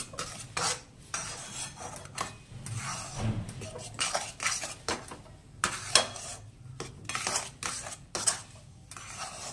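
A rice flour mixture being stirred in a pan over a low flame gives repeated scraping and clinking of a metal spoon against the pan, close by, in uneven strokes with a faint sizzle underneath.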